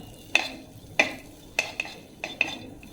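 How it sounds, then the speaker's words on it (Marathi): Raisins stir-roasted in a kadhai for dink ladoo, heard as a handful of sharp metallic scrapes and clinks of a spoon against the pan, spaced irregularly about half a second apart, close and moderately loud with a faint background hiss. "त्याच्यावर हे बेदाणे आपले सगळे परतून घेऊया"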